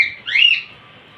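Rosy-faced lovebirds kept as a pet breeding pair, one short, clear, close chirp rising and falling, then quiet.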